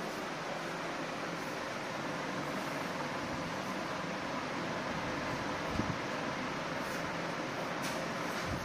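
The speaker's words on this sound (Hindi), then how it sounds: "ये लगता है पंखा थोड़ा तेज चल रहा है" An electric fan runs fast indoors with a constant broadband whooshing hum that holds steady and moderately loud, with faint small knocks near the end and no speech.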